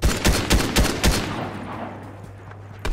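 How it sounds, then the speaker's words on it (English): Gunfire in the video game Fortnite: four loud, evenly spaced shots in the first second and a half, a lingering low hum, then one more sharp shot at the very end. "these guys over there start shooting you"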